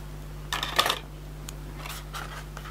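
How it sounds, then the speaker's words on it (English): Scissors cutting red liner tape for a craft card project, a couple of short crisp snips close by over steady low electrical hum, then faint rustling. "let's just cut this to size"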